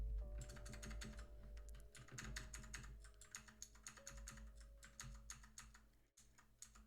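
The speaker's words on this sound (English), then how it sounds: "Let me see if I can get this keyboard work if I have it on Bluetooth" Rapid, uneven keystrokes rattle on a Bluetooth computer keyboard, close and crisp, with bursts of clicking and brief pauses over a low steady hum; no speech.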